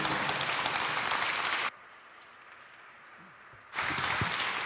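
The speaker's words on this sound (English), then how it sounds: "Round of applause for Lucas" Loud applause from a church service congregation suddenly stops for about two seconds of near silence, then the clapping bursts back in just as strongly.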